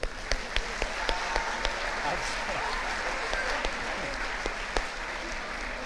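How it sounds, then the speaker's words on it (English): An audience at the Weiser High School Class of 2025 awards ceremony gives a sustained round of applause, many hands clapping in a dense, steady crackle for about six seconds. "One final round of applause."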